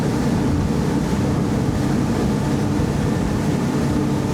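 A Wellcraft 28 T-Top powerboat with trimmed-down engine runs through waves at sea, giving a loud, continuous rush of hull slap, spray and wind with no voices.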